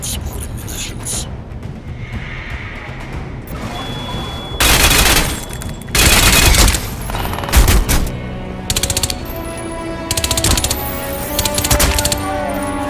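Battle in the video game Crysis 2: dense bursts of automatic gunfire and booming explosions, loud and close, erupting in several clusters over a constant background of game ambience.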